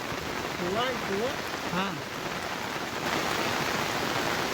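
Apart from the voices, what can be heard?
heavy rain falling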